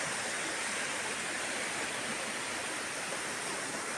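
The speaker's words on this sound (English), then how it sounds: "The river's really in spate at the moment." A river in spate after stormy weather roars as a steady, dense wash of rushing water, loud and continuous with no pauses.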